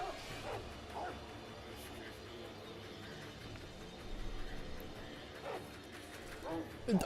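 A dog in the video game Sekiro: Shadows Die Twice gives a few sharp barks and yips amid low game ambience and movement sounds, moderately loud and scattered across the stretch.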